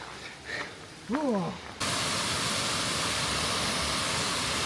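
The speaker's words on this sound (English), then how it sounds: "we're going to cross over this waterfall" A brief voice is heard before the steady full rush of a waterfall in Tollymore Forest Park, County Down, Northern Ireland, takes over, loud and close as the stream is crossed.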